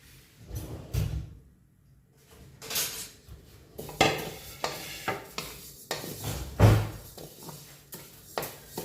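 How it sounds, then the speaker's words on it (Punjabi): Flaxseed roasting in a hot kadai, a spoon scraping and clinking against the metal in irregular bursts, close and fairly loud, with faint sizzling between the strokes. "ਪਹਿਲਾਂ ਆਪਾਂ ਆਪਣੀ ਜਿਹੜੀ ਅਲਸੀ ਭੁੰਨਾਂਗੇ ਕੜਾਈ ਹੋ ਗਈ ਆਪਣੀ ਗਰਮ ਇੱਧਰ ਆਪਾਂ ਪਾ ਦਈਏ ਅਲਸੀ"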